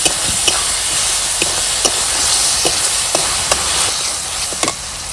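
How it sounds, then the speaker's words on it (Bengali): A bread recipe mixture with two spoons of tomato sauce is stirred and fried in a pan, a loud continuous sizzle punctuated by repeated sharp spoon scrapes and clicks at an irregular rhythm. "এবার ভালোভাবে মিশিয়ে নেব নাড়াচাড়া করে"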